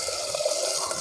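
Water streams steadily into a cooking pot of wet soybean vegetable being made outdoors by a field, giving a soft, continuous pouring rush at low volume with no voices.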